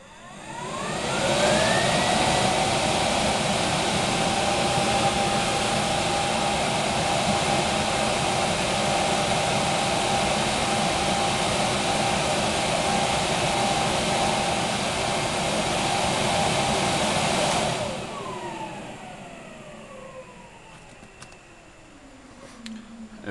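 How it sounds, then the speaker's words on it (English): A box fan set up as the exhaust for a homemade spray booth runs at full speed with a steady, loud broadband roar and a rising whine, then spins down near the end as the noise drops away. "I'll show you how much suction one of these fans has."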